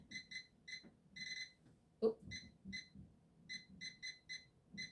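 A kitchen timer goes off during pumpkin pie baking with repeated high electronic beeps in quick bursts, sounding over low kitchen clatter and a sharp knock.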